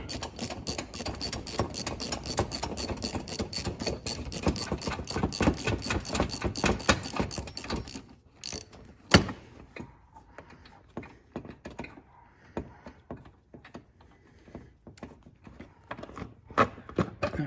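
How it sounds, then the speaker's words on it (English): Bolt being removed with a 6 mm Allen key during a timing belt job on a 2002-2005 Audi A4 1.8 turbo: about eight seconds of rapid, steady metallic clicking, then sparse scattered clinks and taps close by. "okay, and the bolt comes out"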